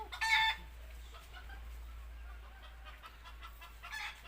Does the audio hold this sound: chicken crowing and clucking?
yes